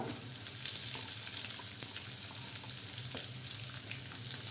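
Onion goes into hot oil with crushed cumin and garlic, making a steady, close sizzle with faint crackles and light pops throughout, with no speech.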